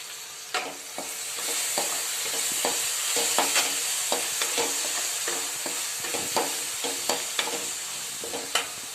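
Spinach with finely chopped tomato and a pinch of asafoetida is sautéed and stirred in a pan, giving a steady close sizzle broken by frequent scraping strokes of the spoon.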